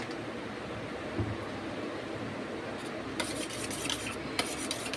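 A spoon stirs Schezwan sauce with a little sugar in a pan, giving a steady low scraping and rubbing that swells into a few sharper clinks and scrapes near the end.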